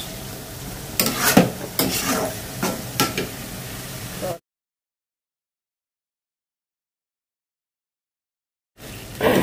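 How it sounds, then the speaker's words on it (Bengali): Dried loitta fish is stir-fried over medium heat in a pan, with a steady sizzle and several sharp spatula scrapes. The sound cuts to complete silence for a few seconds, then the frying returns. No voices are heard. "এখন অনবরত এটা ভাজা ভাজা করবো, যতটুকু ভাজা ভাজা করতে পারি আর কি।"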